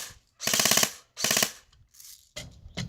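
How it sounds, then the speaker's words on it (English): A G&G CM16 Raider 2.0e airsoft rifle fires several rapid full-auto bursts, a loud buzzing rattle of shots with short gaps between them. "it gives the gun amazing trigger response and rate of fire"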